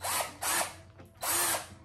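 A power drill used while assembling IKEA furniture whirs in three short bursts, close and loud, with brief pauses between them.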